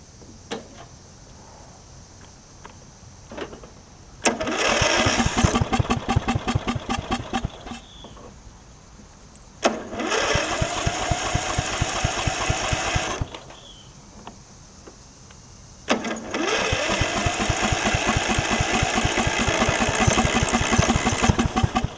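A Yard Machines riding mower engine that had filled with water cranks without choke in three separate attempts, each a loud rapid chugging whir of the starter lasting several seconds, with quieter pauses between and no catch.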